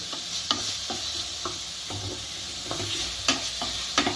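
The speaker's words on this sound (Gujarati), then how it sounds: "આ રીતે આપણે ઘીની અંદર હલાવતું રહેવાનું।" Crushed fresh dates cook down into halwa in ghee, with a gentle steady sizzle and regular scraping strokes of a spoon against the pan, close and unaccompanied by talk.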